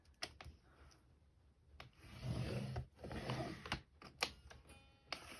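Paper trimmer scoring lines into cardstock for an Easter chocolate gift box, soft scraping slides and dry rubbing strokes punctuated by a few sharp clicks and taps, close and quiet.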